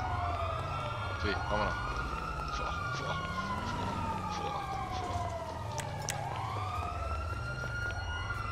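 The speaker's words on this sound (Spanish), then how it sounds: "qué jaleo de sirena, vámonos de aquí" Wailing police and emergency vehicle sirens in the video game GTA V Online sweep up and down continuously over a steady engine drone, loud and close, with a brief spoken word mixed in.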